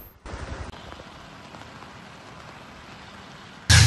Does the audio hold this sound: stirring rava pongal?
no